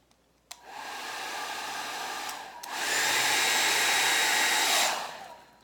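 Hair dryer blowing over acrylic paint for a rainbow Dutch pour, a loud steady close whoosh switched on after a click, rising to a stronger setting midway, then cutting off near the end.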